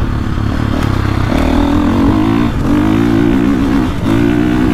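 A KTM 450 motocross motorcycle engine drones loudly and close, holding a steady rough tone with slight rises and dips in revs.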